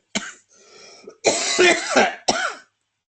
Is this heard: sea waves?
no